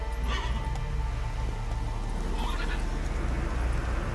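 Roach, the horse in The Witcher video game, neighs and whinnies over a steady clip-clop of hooves beneath a continuous low game rumble.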